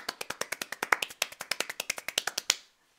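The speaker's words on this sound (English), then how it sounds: "Now this is a very handy clap to get." Rapid hand clapping in a steady, even rhythm: around two dozen crisp, close claps that speed slightly, then stop after a final louder clap.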